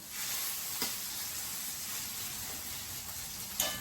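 Alaskan salmon patties for a keto meal frying in a pan, giving a steady, quiet sizzle with a couple of brief louder spits.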